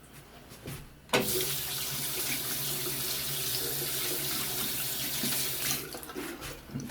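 A tap turns on and water runs steadily into a sink, loud and close, with a sharp onset after a quiet second and a slight easing near the end.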